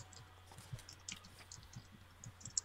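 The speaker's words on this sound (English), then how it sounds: "Folks, keep in mind if you're typing, you might find a way to mute." Quiet, irregular clicking of computer keyboard keys being typed during a group video call, soft and scattered over a low background hum, with no one speaking.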